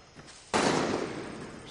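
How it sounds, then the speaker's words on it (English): A sudden burst of distant gunfire in the shooter Far Cry 6 breaks a quiet scene and rolls on as a sustained, noisy crackle after a soft lead-in. "Shit, who's shooting?"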